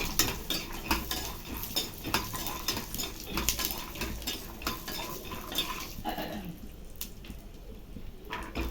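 Peanuts fry in a little oil in a pan, with a spoon scraping and clinking against the metal as they are stirred, over a soft, faint sizzle.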